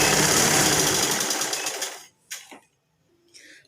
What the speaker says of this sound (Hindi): इस तरह डबल करके पूरे कपड़े में हमने आधे पैर की सिलाई लगा लेनी है।